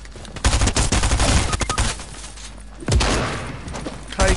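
Fortnite video game gunfire: loud, close bursts of rapid automatic shots in two clusters, separated by a brief lull with a heavy thump.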